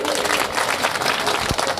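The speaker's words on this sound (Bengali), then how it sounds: "জোরে হাততালি।" A crowd claps loudly and continuously at an Independence Day flag-hoisting gathering in Bhangar, a dense wash of applause with voices mixed in.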